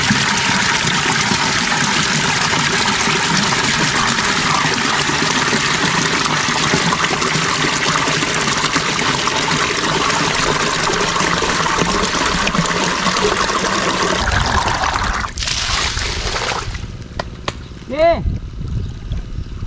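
Well water pours steadily for irrigation in a dense, continuous rushing flow, then stops abruptly near the end, leaving a few faint knocks and quieter sounds.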